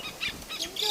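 A lapwing calls near its chicks by a pond, giving a few harsh squawking notes in quick succession, close and fairly loud against outdoor background noise.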